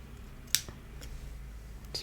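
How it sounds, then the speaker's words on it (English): Wire cutters snipping excess jewellery wire while making bead and wire stacked rings, one sharp close click followed by a couple of faint small clicks in a quiet room. "I can cut off my excess wire"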